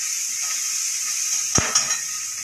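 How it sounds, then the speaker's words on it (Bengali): Vegetables fry gently in a pan with a steady, even sizzle, broken by a couple of short clinks or stirring knocks near the end. "এদিকে তো ভাজাটা হচ্ছে, সবজিটা ভাজতে দিয়ে দিয়েছি, দেখতেই পাচ্ছ আস্তে আস্তে ভাজা হচ্ছে।"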